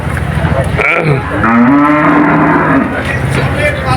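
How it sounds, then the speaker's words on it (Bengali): A cow at a cattle market lets out a loud, close, drawn-out moo that rises and then trails off over a few seconds, with faint crowd noise behind it. "আরো সাত মাইল গরুরহাট অনেক গরু এখানে দেখা যাচ্ছে"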